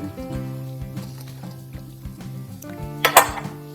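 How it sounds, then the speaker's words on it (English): A spoon stirs pesto pasta salad with spinach in a bowl, giving close scraping and clinking against the dish, with a sharper cluster of clinks near the end and no voices. "I'm going to give that a stir."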